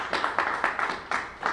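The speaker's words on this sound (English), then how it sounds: "round of applause for Tony" A small round of applause for an honoree at a national award gathering: five or six distinct, fairly quiet claps in a loose rhythm, a sparse cluster of hands rather than a full crowd.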